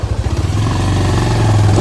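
A motorbike climbs a steep off-road hill near a hilltop tribal village in Salem district, its engine loud and close, starting with a choppy rhythmic chug and then rising into a sustained strained drone as it pulls uphill.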